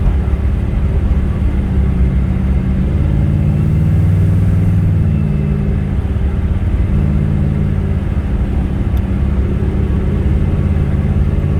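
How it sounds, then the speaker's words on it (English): A restored 1956 Chevrolet two-door post cruises down the road, its engine a steady, loud low rumble that swells slightly early on and then holds even, with no voices. "Car goes down the road really nicely."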